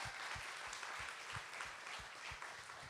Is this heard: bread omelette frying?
no